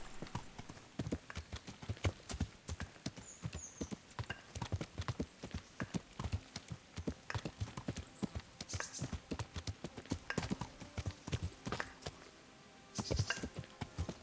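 Horse hooves clip-clop in a steady, evenly paced walking rhythm in the video game Kingdom Come Deliverance, moderately loud and close, with a brief whinny-like sound near the end.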